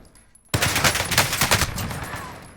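Sustained automatic gunfire in the video game Call of Duty Warzone erupts abruptly after a quiet half second, loud and rapid, then tapers slightly while still rattling on to the end.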